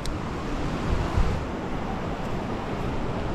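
Anburayan River water in Benguet rushing steadily outdoors, a continuous broadband roar with some wind buffeting the microphone, no voices.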